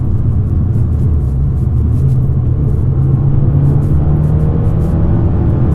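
Interior drive in a used Fiat 500 Abarth on the road: a loud, steady low engine drone and road rumble, with no talking over it.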